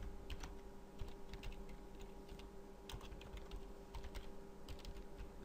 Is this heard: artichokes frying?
no